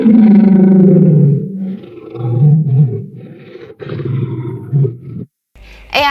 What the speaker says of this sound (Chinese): AI 把我可怜兮兮的叫声修成了一段超气派的狮吼